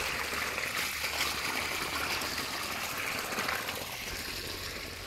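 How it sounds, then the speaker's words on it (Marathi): Water gushes steadily from a second motor's pipe into a borewell, with a broad, continuous hiss, like a strong flow pouring out, no voices heard. "बोरमध्ये आणि वरनं पाणी सोडलंय दुसऱ्या मोटरचं"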